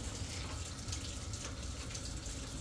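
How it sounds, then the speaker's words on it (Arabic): Water pours steadily into a pot of Iranian spinach stew, a close, continuous splashing rush lasting a few seconds with no talking. "راح نضيف الماي، راح نضيف الماي ونخليه يتهدر على راحته وينطبخ"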